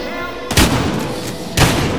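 Two heavy Magnum pistol shots ring out about a second apart in the Battlefield Hardline video game, each a loud booming blast over a low background hum.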